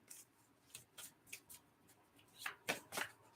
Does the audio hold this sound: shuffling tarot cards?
yes